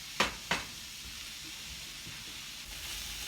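Onion, garlic and thyme frying in a pan, two quick clacks of a utensil followed by a steady, moderate hiss of sizzling, close and unaccompanied by voices.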